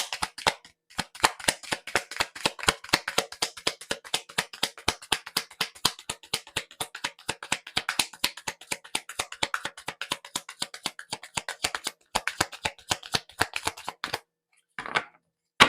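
Oracle deck shuffled by hand in a steady rapid riffle of dozens of crisp card snaps, close and clear, with brief pauses near the end and no talking.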